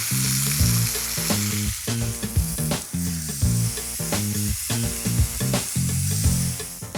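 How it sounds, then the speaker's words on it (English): A New York steak searing in a hot pan, loud close sizzle with crackling spits and bursts pulsing over a strong steady hiss, no voices. "So we'll get the steak in. We're going to let that cook for about a minute and a half"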